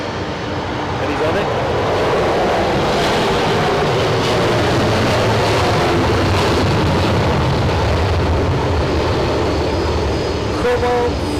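A Boeing 767-300ER jet takes off at Zurich Airport, bound for New York Newark, its broad roaring engine noise filling the air continuously and loudly while someone talks briefly over it.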